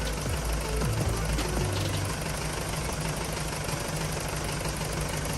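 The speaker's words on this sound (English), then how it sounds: "Now that the vehicle's running" A 1998 Toyota 4Runner engine idles right after a flex fuel conversion kit install, a steady close rumble with a low throbbing tone that holds evenly from start to finish.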